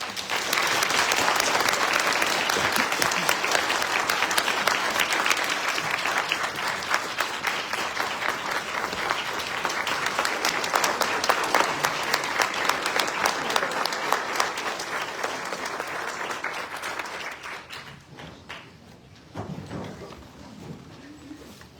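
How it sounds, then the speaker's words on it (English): Sustained audience applause at a Martin Luther King Jr. commemorative event in 2023, loud and dense clapping from a large crowd lasting nearly twenty seconds before tapering off, with a few scattered voices as it fades. "let's have another round of applause"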